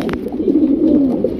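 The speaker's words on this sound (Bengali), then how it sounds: "জার্মান শিল কবুতর" A black German shield pigeon coos up close, a single continuous throaty, rolling coo lasting over a second before stopping abruptly, loud and clear with no talking.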